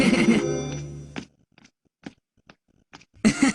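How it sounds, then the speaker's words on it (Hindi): Several short, evenly spaced electronic rings from a telephone in a Hindi-dubbed Doraemon cartoon sound alone in a quiet gap, with cartoon dialogue and music heard before and after them. "मैं शिजुका के फोन का इंतजार कर रहा था"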